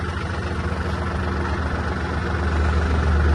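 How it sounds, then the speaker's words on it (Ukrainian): A small Yanmar F-250 mini tractor engine idles steadily as it warms up, a close low chugging drone that grows slightly louder toward the end, with no talk. "поки трактор гріється"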